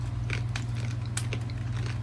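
Someone bites and chews hard, crunchy organic snack chips up close, producing several sharp crackling crunches spread irregularly over a steady low background hum.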